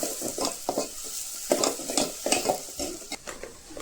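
Onions frying in a pan for mutton curry cooked on a wood-fired stove, a crackling sizzle broken by repeated scraping stirs in an uneven rhythm, close and moderately loud, with no speech.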